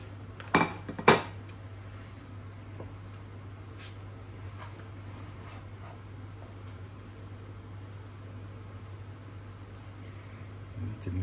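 Cutlery and dishes clink twice near the start as a slice of hot pastie pie is served, followed by a quiet kitchen hum with a faint clink at the end.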